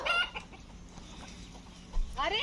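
Village chickens chased by a small child let out short, sharp clucks near the start and again at the end, with a quieter rustling stretch between.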